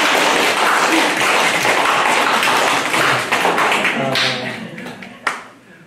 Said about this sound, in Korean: 우리 서로를 위해서 한번 박수 한번 할까요?